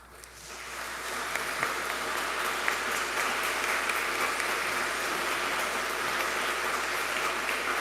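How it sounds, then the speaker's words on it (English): Audience at an 8th grade graduation ceremony breaks into sustained applause, many hands clapping together in a dense, even roar that swells quickly and holds steady. "Now stand and let's applaud them."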